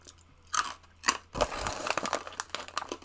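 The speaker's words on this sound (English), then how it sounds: "I've got crunchy snacks again." Crunchy snacks being eaten close up, with sharp crinkling bursts and repeated crisp crunching chews in quick irregular succession.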